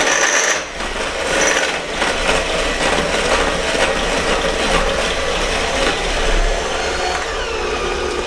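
An electric mixer creams chocolate sugar cookie dough with a steady, continuous mechanical whir, rattling and scraping in the bowl throughout at a constant close level.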